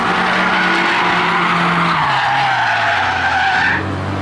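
Mercedes 190E 2.5-16 on 18-inch, 225-wide tyres skidding on the Nürburgring, a loud continuous tyre squeal over a steady engine drone whose pitch falls, fading near the end.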